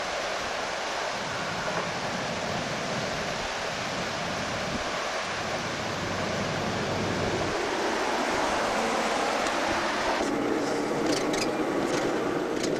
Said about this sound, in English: Some turbulence in the water out here.